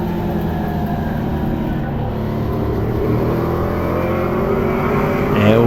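A Crown Victoria race car runs a lap at I-44 Speedway, its engine a loud, continuous droning roar that holds steady and swells slightly toward the end, with no voices over it.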